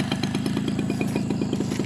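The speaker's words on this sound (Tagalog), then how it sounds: "ang ating bitbit na motor ay isang 2-stroke na Yamaha" Yamaha two-stroke motorcycle engine on a mountain road, running steadily with a rapid, regular pulsing beat and a raspy buzz, close and fairly loud throughout with no talking.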